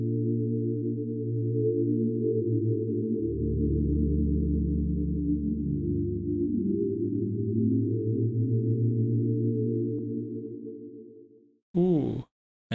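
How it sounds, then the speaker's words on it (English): Sustained chords from an ES2 synth using the Crystal Rain patch play a piano part, soft and shimmering, held with slowly shifting notes and ending in a brief glitchy swoosh. "using the sound called the Crystal Rain."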